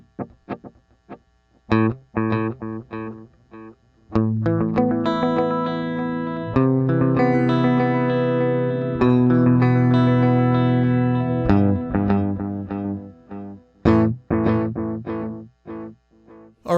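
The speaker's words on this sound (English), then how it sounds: "you will hear the quarter note pattern on one side and the dotted eighth note pattern on the other" A distorted electric guitar plays sustained chords and single notes, each echoed by stereo delay repeats, a quarter-note pattern on one side and dotted-eighth on the other, trailing off into short stabs.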